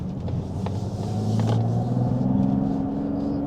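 Mazda CX-90 hybrid SUV with a 3.3L turbo six-cylinder engine, heard from inside while driving: a steady low engine hum that rises slowly in pitch, continuous and moderately loud, with no talk.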